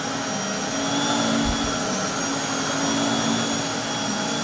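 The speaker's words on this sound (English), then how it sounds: "Got LG TV and, you know, an LG vacuum cleaner." An LG vacuum cleaner runs with a steady, loud whooshing motor roar and a high whine, continuous throughout with no talk.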